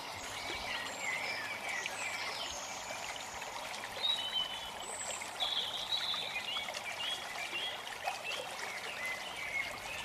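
The Mimram, a fast-flowing chalk stream in Hertfordshire, runs with a steady, close rushing and trickling of water, while birds chirp faintly in the background.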